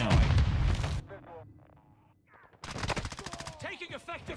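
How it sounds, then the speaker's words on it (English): Rifle fire from the M13 in Call of Duty: a loud burst of rapid automatic shots, a brief lull with faint distant sounds, then another sustained burst, close and punchy. "Taking effective fire."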